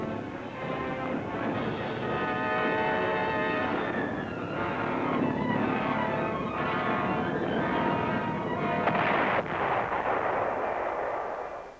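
Anti-aircraft gun batteries in the Antwerp X defenses fire at V-1 flying bombs, a dense, continuous barrage of overlapping booms and rattling reports that stays loud for the whole stretch, with a tonal drone running underneath.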